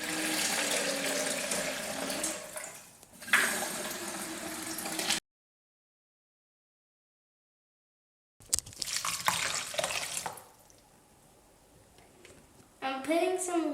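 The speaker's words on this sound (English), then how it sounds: "so now I need 3 cups of water." Tap water runs into a saucepan in a home kitchen to add three cups of water to dandelion petals for dandelion honey, a steady close rush in bursts with a silent gap and a brief clatter near the end.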